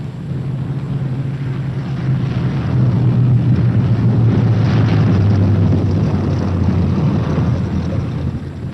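Steady propeller drone of a World War II B-17 bomber approaching to land with one engine dead, a loud continuous low engine hum that swells midway then eases slightly.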